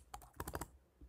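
Quick bursts of keystrokes on a computer keyboard while an email is being typed, a short cluster of crisp clicks followed by a pause and one more tap, close and quiet.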